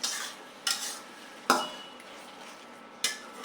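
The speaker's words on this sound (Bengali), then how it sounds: "ভালো করে কষিয়ে নেব।" Spice masala for chicken biryani being stirred and fried in a pan with a metal utensil, with soft frying noise and a few sharp scrapes and clanks of the spoon against the pot, fairly close, without talk.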